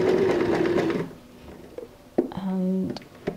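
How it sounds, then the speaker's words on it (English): A sewing machine top-stitching curtain fabric for a tote bag runs in a short steady burst near the end, after a stretch of whispery rustle and handling at the start. "and then just sew a top stitch"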